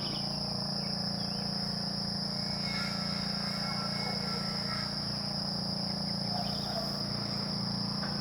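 Constant cricket trilling at night in Elizabethtown, Hardin County, Kentucky, carries on without a break, joined by a low throbbing chorus of frogs beneath and a few faint distant calls scattered through.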